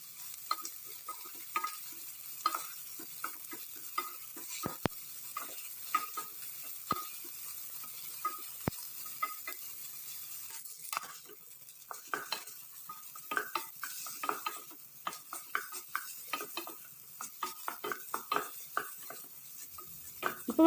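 Brinjal frying in olive oil in a pan, stirred with a utensil: faint continuous sizzle with repeated scraping and clinking strokes against the metal, steady and close throughout.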